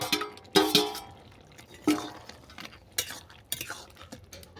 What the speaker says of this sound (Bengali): এরপর এতে দিয়ে দেবো ভেজে রাখা বড়ি আর ভেজে রাখা মাছের মাথা